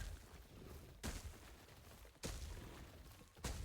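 Offensive shrine in Last Epoch dealing damage to nearby enemies: three heavy thumping impacts land about a second apart, each a sharp broadband hit with a short tail, loud over a steady low game rumble.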